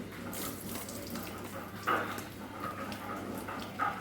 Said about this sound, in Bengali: চাল ডাল খুব ভালো করে পরিষ্কার করে ধুয়ে নিচ্ছি